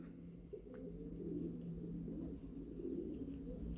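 Pigeons in a loft, original Karel Meulemans racing stock from Arendonk, Belgium, coo softly and continuously, faint against a low background hum.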